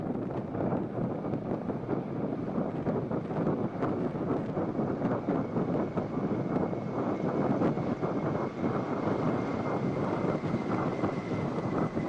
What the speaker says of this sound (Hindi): Ladies and gentlemen, Dorniers in diamond formation led by Captain P. Ratish